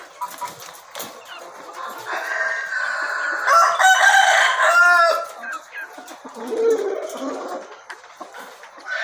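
KUB roosters, an improved Indonesian native chicken breed, crow loudly and repeatedly while hens cluck nearby, a busy close-up farmyard chorus with no talking.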